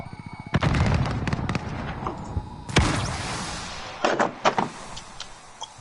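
In Call of Duty, a thrown frag grenade bursts in a sharp, loud blast, followed by scattered gunfire cracks and impacts that fade into lighter intermittent shots.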